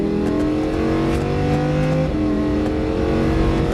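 A Lamborghini Huracan 610-4 accelerates hard down a circuit straight, its engine a loud, steady rising drone with a brief gear-change dip midway.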